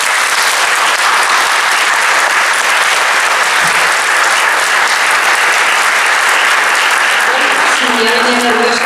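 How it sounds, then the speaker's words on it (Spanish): Strong audience applause for the town crier of the 2019 fair festivities, loud, dense, sustained clapping filling the hall, with a voice beginning to speak near the end. "Un fuerte aplauso."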